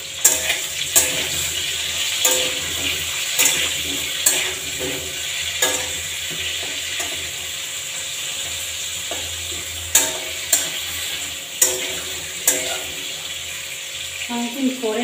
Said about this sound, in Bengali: লবণ দিয়ে একটু ভেজে নেব